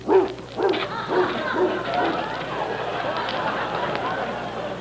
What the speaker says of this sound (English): Quite a dog.